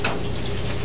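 Eggplant frying in plenty of oil, a close, steady sizzle with a brief crackle at the start and no voices.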